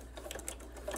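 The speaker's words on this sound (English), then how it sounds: "do a straight stitch down" A sewing machine runs a straight stitch on a quilt-as-you-go machine cover, a short, soft burst of rapid mechanical needle pulses heard up close.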